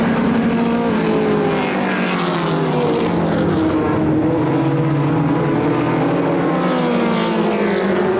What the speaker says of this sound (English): 3 laps into this 10-lap heat race for the Southern Ontario Pro 4 Modifieds